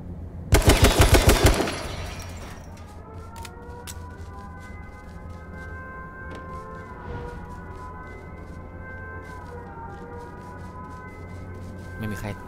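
Rapid automatic gunfire in the H1Z1 King of the Kill battle royale game, a loud dense burst of shots lasting about a second, then a lingering siren-like tonal drone and faint scattered clicks for the rest of the stretch.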